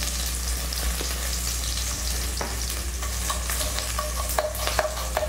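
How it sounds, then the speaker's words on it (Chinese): Sugar stir-fried in a hot wok to caramelize for braised chicken legs, with a steady close sizzle under repeated scraping and clinking strokes of a spatula against the metal, with no talk. "我们现在炒糖不是做酱色哦，我们只要是炒出它的焦糖味就好了。"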